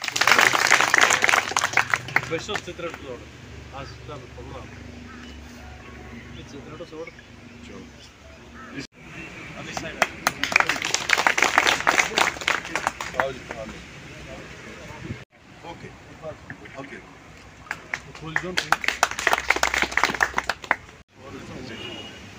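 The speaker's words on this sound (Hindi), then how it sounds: "तालियां बजी" Audience applause at a speech event, coming in several loud bursts of clapping that swell and fade between stretches of speech.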